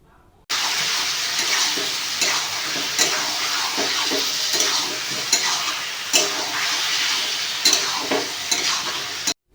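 Meat fries in a pan with onion, ginger, garlic and green chili paste, giving a loud, continuous sizzle. Repeated scraping stir strokes run through it the whole time, with no talking.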